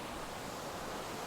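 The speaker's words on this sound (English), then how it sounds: "Quite a lot of water comes down this side and it sort of trickles down here" Water from a waterfall trickles and rushes down a mossy rock face in Lake District woodland in the rain, making a steady, broadband wash of noise that lasts the whole moment with no voices.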